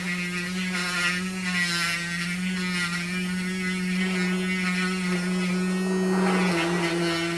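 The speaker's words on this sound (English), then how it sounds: "get the good old Dremel" A Dremel rotary tool cuts into a Warhammer miniature, giving off a steady, close electric whine with a strong constant hum that runs unbroken throughout and pitches slightly as the bit bites.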